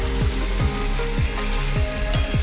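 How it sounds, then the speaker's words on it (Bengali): Ginger-garlic paste frying with onions in a pan for a yogurt chicken curry gives a loud, continuous close-up sizzle. Repeated stirring strokes run through it in a steady rhythm. "তার মধ্যে দিয়ে দিলাম আদা রসুনের পেস্ট"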